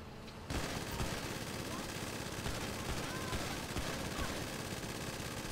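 Rapid gunfire in the video game GTA V, a dense burst of automatic shots crackling continuously after a sudden start, fairly loud and unbroken to the end.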